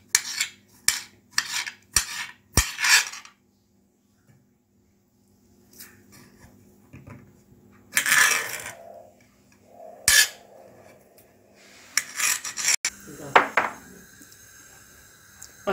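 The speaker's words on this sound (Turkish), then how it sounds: "Bunları da küçük küçük doğruyoruz." A knife cutting potatoes into small pieces on a board, with a quick run of sharp chops, then scattered knocks, scrapes and clatters spread across a fairly quiet stretch.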